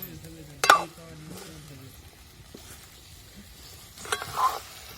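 Eggplant and potato pieces stirred and fried in masala in a pan, a steady soft sizzle with scraping stirs and a couple of louder clanks, a voice faintly heard in the background.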